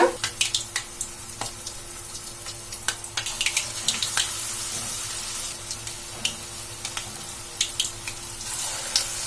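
Vada batter made without urad dal frying in hot oil, a steady bubbling sizzle with frequent sharp crackles and pops, close and fairly loud, with no talking.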